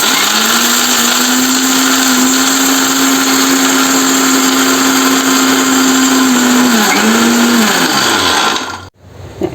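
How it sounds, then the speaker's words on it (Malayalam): An electric mixer grinder grinds sambar powder, whirring loudly and steadily, its motor pitch dipping briefly before it shuts off abruptly near the end. "മിക്സി ഓണാക്കാൻ പോവാം"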